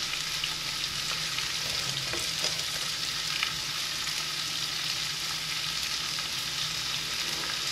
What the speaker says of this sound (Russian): Начинаем жарить наш лучок.